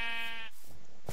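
A sheep bleats in a Minecraft UHC match on a plains: a single short, bright, nasal baa up close, then quiet game ambience.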